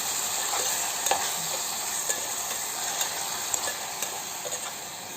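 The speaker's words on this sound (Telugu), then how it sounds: "ఇది కూడా పచ్చి వాసన పోయేంతవరకు ఫ్రై చేసుకుందామండి" Masala paste fried in oil in a pan gives an even, close hiss, with faint periodic scraping ticks from a spatula roughly once a second; nobody speaks.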